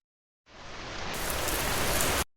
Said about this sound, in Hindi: या हो तेज बारिश की बौछार